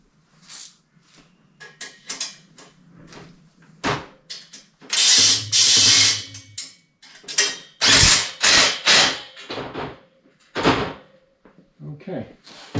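Ratchet wrench with a 13 millimeter socket turning bolts on heavy-duty shipping container shelving, giving bursts of rapid clicking and metallic clatter between stretches of close talking.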